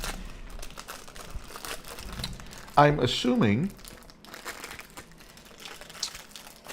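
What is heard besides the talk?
crinkling plastic bag of ice cream bars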